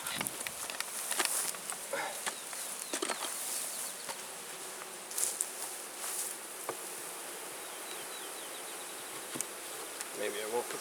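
Honey bees swarm in a dense, continuous buzz just above the hive, steady and close throughout with scattered louder individual passes.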